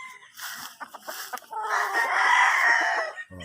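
Fighting cocks on a farm give out a loud, close crow while others cluck and call around it, in a busy layered poultry yard with no voice.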